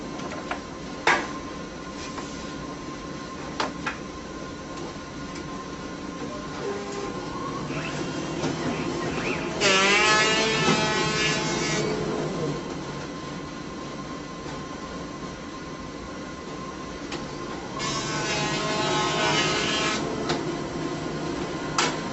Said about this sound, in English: We're running the PUR unit here, so it's set for 10 seconds of clamp time for each book